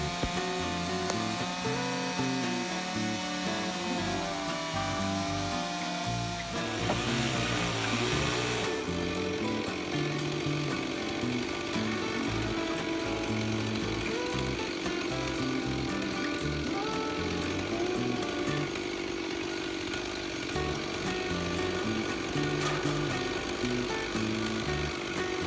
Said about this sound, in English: To cut my ends straight, I used an old chainsaw mill for making beams.